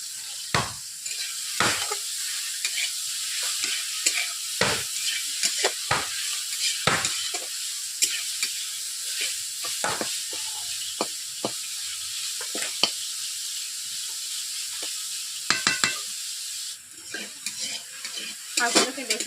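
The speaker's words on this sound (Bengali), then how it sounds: "এইভাবে নেড়ে নিচ্ছি শাকগুলোকে" Water spinach stir-fried with lightly cooked onion in a pan, a steady hiss of frying under repeated scraping and clinking of a spatula against the pan.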